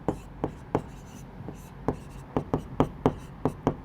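Chalk or pen strokes during a Class 10 coordinate geometry maths lesson, a series of sharp, irregular taps and scratches close by, quickening toward the end, with no talking.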